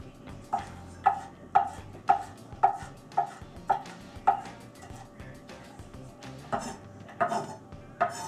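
A knife chops vegetables on a cutting board for an Italian souffle with steady, evenly spaced thuds, about two per second, close and fairly quiet with no talk.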